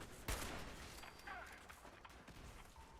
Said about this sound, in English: Kinda in the middle of a gunfight